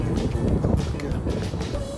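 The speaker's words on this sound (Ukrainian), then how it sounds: "Вітер піднявся, капець, глаза попалило" Gusty wind roars and buffets the microphone steadily among downtown Chicago skyscrapers, with faint background noise and no clear talking.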